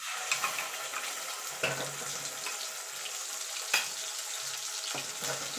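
A ground spice paste sizzles in hot oil over a cumin and dried red chilli tempering for a paneer dish, with continuous frying hiss and occasional spatula scrapes from stirring.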